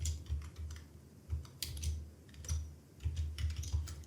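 Someone types an employee ID into an Excel sheet on a computer keyboard, producing close, quiet bursts of rapid key clicks separated by short pauses.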